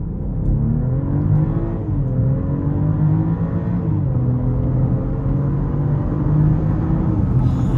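A 2026 BMW X7 xDrive40i accelerates hard, its engine note droning steadily and rising in pitch through the gears, with short dips at the shifts, heard loud and close from inside the cabin.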